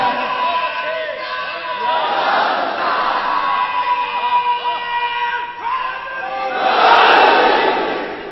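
A crowd at a religious speech about Karbala chants the Nara-e-Ali slogan in loud, sustained collective shouting that swells and recedes, with the loudest surge near the end.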